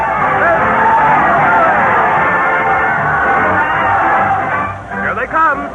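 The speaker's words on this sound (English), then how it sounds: "Listen to that crowd cheer as Fred Allen leads his parade of stars to the old Town Hall." Dense crowd cheering and shouting in an old-time radio comedy show, loud and continuous as a parade of stars arrives at the old Town Hall, with voices calling out near the end.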